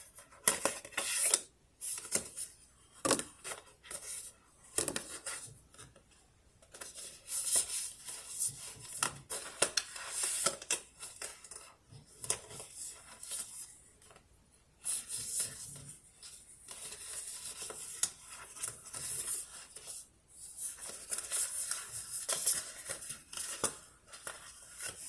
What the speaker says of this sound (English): Let me get the cards together so I could let you know what we have.